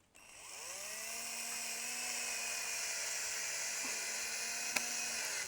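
A power tool drives a long self-tapping screw while a garden bed is being built, a steady high whine that runs for several seconds and ends with a couple of sharp clicks, close and alone.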